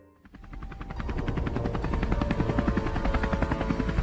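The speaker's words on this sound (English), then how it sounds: "a helicopter, possibly the same one that had chased us, hovered by" A helicopter's rotor thumps rapidly and steadily, swelling in from quiet within the first second and staying loud and close.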